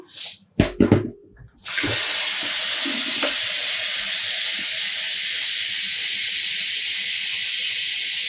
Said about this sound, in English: we're adding in water